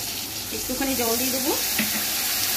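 A tilapia curry (jhal) with turmeric, salt and chili powder sizzles loudly in a pan as a splash of water is poured in. The steady hiss swells briefly while the water hits the hot oil.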